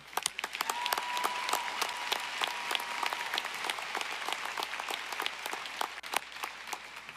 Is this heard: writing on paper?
no